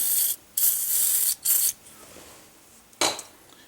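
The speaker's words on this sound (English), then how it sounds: "I'm going to go ahead and spray the splines in there with a little penetrating oil" Several hissing aerosol bursts of penetrating oil sprayed onto the hub splines of a 2002 Pontiac Grand Am, two long and two short, separated by quiet pauses with faint mechanical handling sounds.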